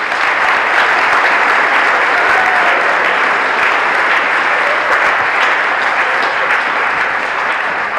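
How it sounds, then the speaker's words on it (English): A loud, sustained round of applause from a hall of fame ceremony audience, dense steady clapping filling the room for eight seconds with no speech. "Let's give these folks a round of applause"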